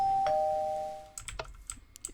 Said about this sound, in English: Next up we have the doorbell.